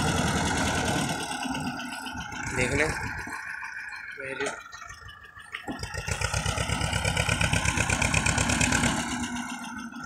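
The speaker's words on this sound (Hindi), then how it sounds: "ट्रैक्टर आवाज़ बड़ी शानदार है" An Escort 335 tractor engine runs with a loud, pulsing diesel chug that dips briefly in the middle before climbing back, while a voice speaks over it.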